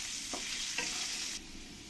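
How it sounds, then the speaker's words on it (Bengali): Potatoes fry in hot oil in a pan, a steady bright sizzle with two brief stirring scrapes, before the hiss drops to a quieter level near the end. "আলুগুলো আমি খুব ভালো করে লাল লাল করে ভেজে নিয়েছি"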